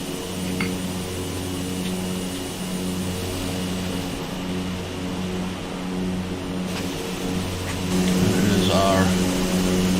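A Cessna 208 turboprop in flight over French Polynesian islands in Microsoft Flight Simulator 2020 produces a steady, droning propeller and engine hum with a constant low tone that thickens and grows slightly louder near the end, and no voices.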